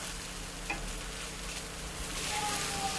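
Chow mein noodles fry in a pan with a steady, close broadband sizzle, and a brief scrape or stir knocks through partway; no one speaks.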